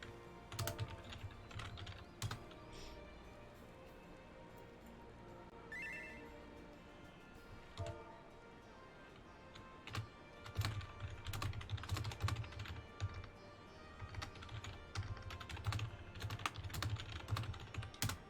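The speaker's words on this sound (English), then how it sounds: "I'm typing my response to you" Keys clatter on a computer keyboard in irregular bursts of quick taps with short pauses, close and fairly faint, during a Final Fantasy XIV game stream.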